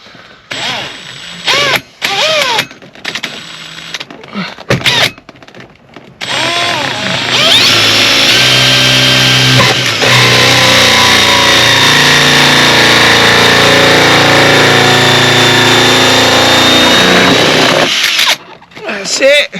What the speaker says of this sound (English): If you're using a powerful drill, watch it because it'll snap your arm.